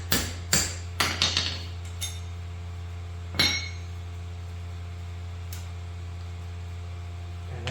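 Metal hammer blows drive bushings out of Triumph Spitfire rear trailing arms using sockets: a quick cluster of sharp ringing strikes, then a single louder clank and a faint tap, over a steady electrical hum in a workshop.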